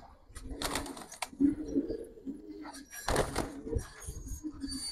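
Silver female Giribaz pigeon cooing in a few short rounds, fairly close, over a low background hum.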